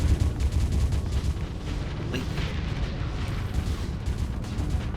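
Heavy station main guns pounding away in the space combat game Starsector, a dense, continuous barrage of booms and bursts rolling loud through the whole stretch, with no voices over it.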